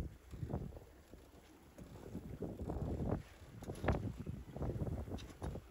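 Homemade sailboat with an electric motor moving across open water, gusting wind buffeting the microphone, soft splashing and a faint steady high whine, low and uneven throughout.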